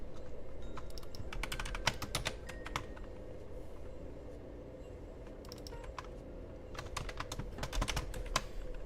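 Computer keyboard typing during a development livestream, rapid bursts of close keystrokes with short pauses, over a steady low background hum.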